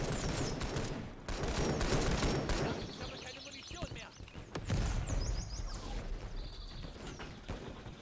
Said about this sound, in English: These machine guns are not very accurate.